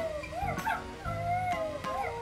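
An electronic toy puppy gives a wavering, whimpering howl that rises and falls in two or three short electronic cries, close and clear with nothing else over it.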